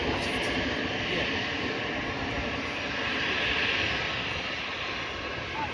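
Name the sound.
aircraft engine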